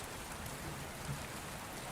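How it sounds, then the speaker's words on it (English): Steady rain falls in an even, unbroken hiss of dense droplets, soft and constant throughout with no voices. "the steady lullaby of falling rain"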